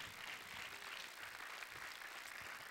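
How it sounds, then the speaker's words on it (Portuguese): A crowd applauds, a dense, even wash of clapping sustained throughout, heard at a distance. "Agora você pode dar uma salva de palmas para Jesus."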